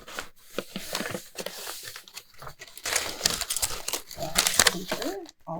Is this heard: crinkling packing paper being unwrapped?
yes